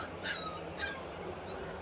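Dogs at a crowded kennel shipping area holding teddies, Alaskan Malamutes, golden retrievers, Samoyeds and German shepherds give two brief, high, faint whimpers over steady background hum, with a large fan running nearby.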